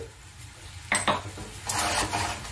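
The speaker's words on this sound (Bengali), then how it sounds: "এবার গ্যাসটা সিম করে আমি আস্তে আস্তে ভালো করে ভেজে নেব।" Spices and jackfruit with cashews fry in a pan on low gas while a spoon scrapes and clatters against the metal, with a soft sizzle underneath and a few close stirring strokes.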